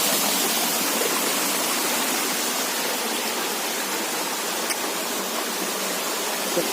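Roaring water at Gadachandi waterfall in Keonjhar, Odisha: a steady, loud, broadband rush that holds unbroken from start to end, with no voices.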